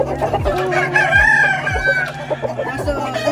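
On a small backyard chicken farm, hens cluck steadily and a rooster crows loudly and close by, the calls overlapping in a busy flock chorus.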